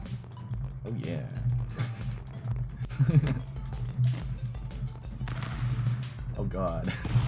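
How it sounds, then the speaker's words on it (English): Bursts of gunfire in the video game Stick Fight pop and crackle at a moderate distance, mixed with voices talking and exclaiming over the top. "I heard the sounds of gunfire."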